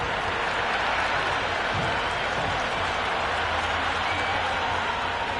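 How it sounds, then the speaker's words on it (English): A packed ground erupts during an India versus Pakistan T20 World Cup cricket match after a big six, with dense, sustained cheering and applause filling the air loudly and evenly throughout. "the crowd have joined the party. It's pretty noisy at the ground."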